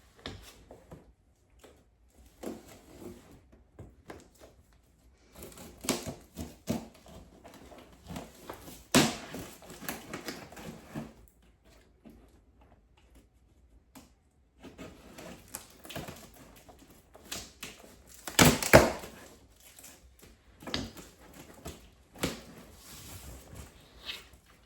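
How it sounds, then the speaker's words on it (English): Unboxing a VEVOR 5 in 1 heat press machine: scattered rustles, taps and clunks of cardboard and parts being handled up close, in bursts with quiet gaps and one louder thump near the end. "I'm excited to unbox it."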